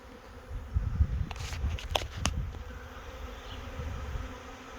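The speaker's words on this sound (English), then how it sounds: "They've definitely got a swarm in there." A honey bee swarm pouring into a bee house fills the air with a steady low buzzing hum, broken by a few brief closer clicks and knocks nearby.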